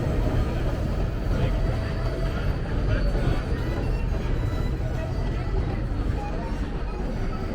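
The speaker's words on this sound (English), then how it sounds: "there goes the GO train" A GO commuter train passes in downtown Toronto with a loud, steady rumble and rolling rail noise, street babble and passing traffic around it.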